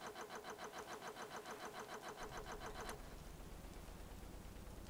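A boat engine in the Stormworks game cranks with a rhythmic, pulsing starter whir for about three seconds, then catches into a steady low running rumble.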